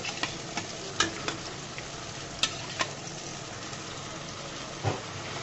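Fish sizzle and fry steadily in a hot pan, a constant close crackle broken by a few sharp pops and spatters, with no talking.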